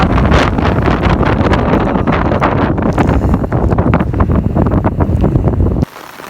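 Strong, steady wind roars and buffets the microphone without a break on a mountain viewpoint at Kelebokka, then drops off sharply near the end.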